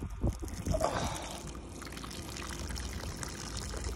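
Water pours and trickles into a bottle outdoors, a steady splashing stream with a few bumps and handling noises at the start, fairly faint.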